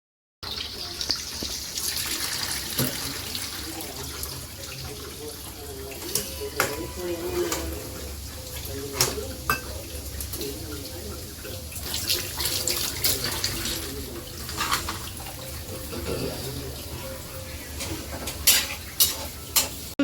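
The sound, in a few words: macaroni rinsed under running tap water in a strainer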